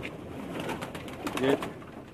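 A pigeon on a rooftop loft in Pakistan gives a brief low coo that swells near the middle, faint against background murmur and nearby voices.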